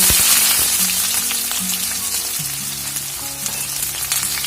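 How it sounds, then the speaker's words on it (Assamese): Onions fry loudly in hot oil with slit green chillies for a mutton curry, a dense, continuous close-up sizzle and crackle with faint stirring underneath. "এতিয়া দিম মই পিঁয়াজখিনি।"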